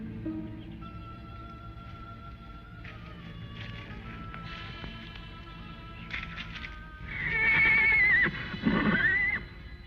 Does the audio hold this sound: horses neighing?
yes